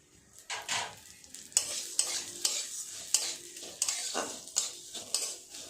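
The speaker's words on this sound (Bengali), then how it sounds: "গ্যাস কমিয়ে রেখে আস্তে আস্তে সিমাইটা ভেজে নেব" Vermicelli (simui) frying slowly in ghee over low gas, with repeated scraping stirs and soft sizzling, spoon clinks against the pan, steady and close with no talking.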